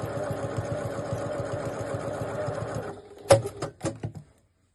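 A sewing machine stitches a half-centimetre seam on a three-zip crossbody bag, running in a steady rhythmic chatter for about three seconds before stopping, followed by a few sharp clicks and knocks.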